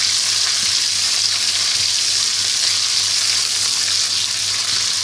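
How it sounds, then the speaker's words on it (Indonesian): Spice paste (bumbu) for an eggplant dish sautés in a pan, giving a loud, steady, unbroken hiss of frying with faint stirring underneath and no speech. "Kita tumis bumbunya sampai harum."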